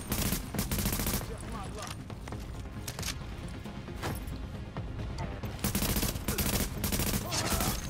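Sustained turret gunfire in a video game, loud rapid automatic bursts that run nearly unbroken, with heavier clusters of shots at the start and end and a slightly thinner stretch in the middle.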